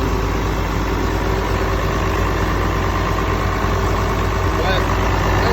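A John Deere 4420 tractor's engine idles steadily and continuously at close range, a low, even rumble holding the same level for the whole stretch with no change in pace.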